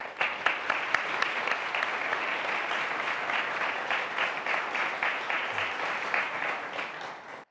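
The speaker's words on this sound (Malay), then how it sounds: "Tepukan untuk Zahra" Steady, dense audience applause fills a classroom lecture for about seven seconds, loud and continuous from start to finish, then cuts off abruptly.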